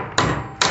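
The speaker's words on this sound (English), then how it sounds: "Hammer it in." Pieces of a pocket door frame kit are hammered into place, two sharp close thuds about half a second apart, loud and with nothing else around them.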